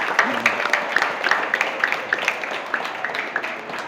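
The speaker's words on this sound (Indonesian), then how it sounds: "Tepuk tangan ya buat Fijar." Steady applause from a small group, many hands clapping at a brisk, even pace, moderately close.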